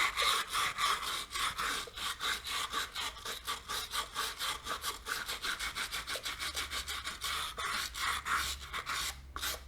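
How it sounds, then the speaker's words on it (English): Brush scrubbing the radiator fins of a BMW K1600 GTL motorcycle with light pressure, a rapid rhythmic back-and-forth rasping close up and without talk. "Light pressure and scrub the fins."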